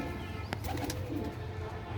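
Soft pigeon cooing rumbles nearby in low repeated bursts, with a couple of faint clicks or flutters mixed in.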